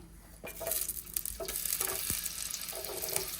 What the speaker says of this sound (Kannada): ಈಗ ನಾನು ತೆಂಗಿನೆಣ್ಣೆ ಹಾಕ್ತಾ ಇದ್ದೇನೆ. ಯಾವ ಎಣ್ಣೆ ಸಹ ಹಾಕ್ಬೋದು. ಫಸ್ಟ್ ನೀರುಳ್ಳಿ ಹಾಕ್ತಾ ಇದ್ದೇನೆ.